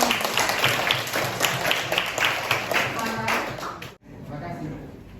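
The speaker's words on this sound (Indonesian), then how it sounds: "tepuk tangan." Students in a secondary religion class clap in a burst of dense, steady applause across the room, ending abruptly partway through before quieter room noise and murmuring take over.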